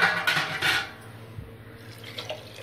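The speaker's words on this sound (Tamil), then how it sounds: "இப்போ அதில் தண்ணி ஊற்ற போகிறேன்" Water poured into a pot of toor dal and vegetables for a kootu, a splashing pour heard at the start and fading within a second, followed by faint pot clinks and quiet kitchen sounds; no talking.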